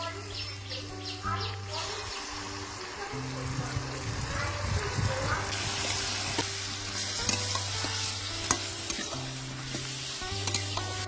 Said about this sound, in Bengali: ম্যারিনেট করা চিকেন এবার কড়াইতে দিয়ে দেবো।